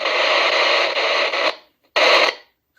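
Loud hiss of static from a radio scanner after its squelch knob is turned, holding steady for about a second and a half, cutting to silence, then bursting back briefly before stopping.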